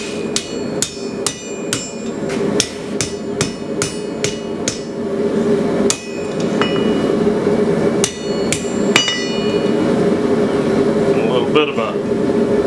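A hammer rings sharply on hand-forged metal, bending a leaf shape over for a toilet paper holder: a run of quick, bright strikes, then spaced blows over a steady roaring hum, with a voice speaking briefly near the end.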